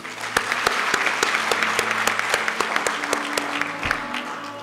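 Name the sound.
audience applause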